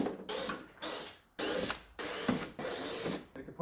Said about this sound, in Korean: 요 볼트 총 7개를 풀어 주셔야 돼요